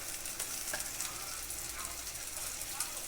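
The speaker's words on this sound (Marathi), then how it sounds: "ते अद्रक लसणाची पेस्ट याच्यामध्ये पूर्ण टाकून देतो मी" Ginger garlic paste hitting hot mutton in a pan, a steady close sizzle and frying hiss running evenly throughout without pause.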